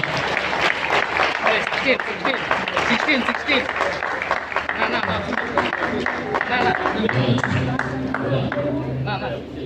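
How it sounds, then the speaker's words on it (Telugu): An audience claps at a church celebration of a bishop's 78th birthday, a sustained burst of applause with voices talking over it for the whole stretch. "చప్పట్లు కొడదాం ఒకసారి గట్టిగా"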